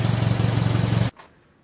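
A 1950 Ford 8N tractor engine runs steadily at a raised speed, a close, loud, even throbbing that cuts off abruptly after about a second, leaving near silence.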